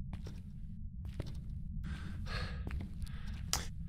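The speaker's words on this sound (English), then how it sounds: "Oh, it's my guy breathing." A game character in Phasmophobia breathing heavily inside a dark asylum, with a few audible sighing breaths and gasps close up over a low droning hum, plus faint footstep-like knocks, with no talk.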